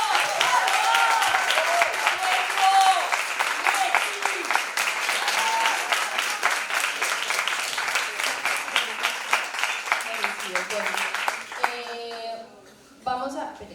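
A live audience at a gastronomy event gives a sustained round of dense clapping that carries on for several seconds, with voices and cheers mixed in, before it tapers off and gives way to talk at the end.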